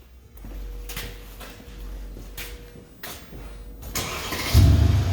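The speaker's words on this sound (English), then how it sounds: "Send a comment to the vehicle to start." A 2016 Mercedes CLS starting via a remote starter: quiet clicks and relay sounds, then the engine cranks and catches near the end, settling into a louder low idle.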